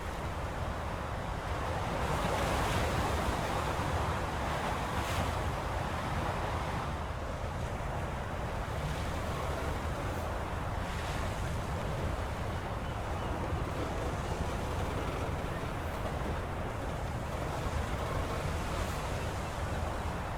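A cruiser steams ahead through open water in War Thunder, with a continuous rushing wash of waves and wind over a low engine rumble, steady and fairly loud with no voices.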